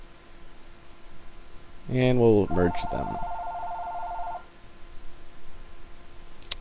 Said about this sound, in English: Sorry about the phone, but I'm going to let it keep going.